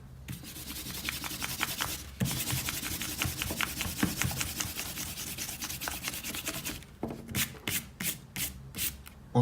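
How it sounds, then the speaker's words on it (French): An eraser rubs quickly back and forth over paper to clear pencil construction lines, close and soft, in rapid scrubbing strokes with a short pause, then a few slower, separated strokes at the end. "on peut gommer nos traits de construction."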